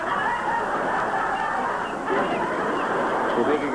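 A person's voice imitates a Baltimore Oriole call, giving a loud, close, throaty squawking that sounds somewhat like a clucking fowl and lasts several seconds.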